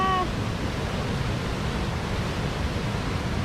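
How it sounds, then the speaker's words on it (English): A waterfall in Wisconsin, heard from on top of the falls: a steady, loud broadband rush of falling water that holds unbroken from start to end, with a few brief faint tones near the beginning. "this rock right here, we're literally on top of the waterfall"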